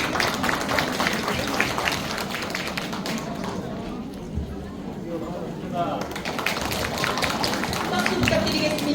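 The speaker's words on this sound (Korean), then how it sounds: "박수로 맞이해 주시기 바랍니다" An audience at a Korean lecture on happiness and volunteering claps to welcome the speaker. Dense, sustained applause briefly thins midway, then swells again, with some voices mixed in.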